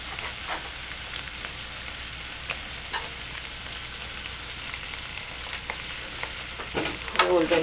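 Tomato sauce and cooked peppers sizzle steadily in a pan for sweet-and-sour catfish, a close continuous frying hiss with soft stirring scrapes, louder clatter near the end, and no talk.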